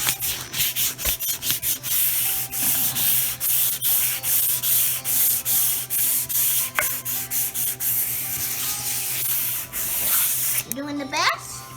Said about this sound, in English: we're just doing a little 220 sandpaper over where we used some wood putty.